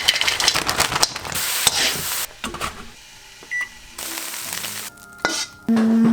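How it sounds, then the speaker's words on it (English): A chicken and vegetable stir fry crackles and sizzles in a pan in short bursts, broken up by quiet gaps, utensil clatter and a few electronic beeps near the end, with no speech. "we're making stir fry again"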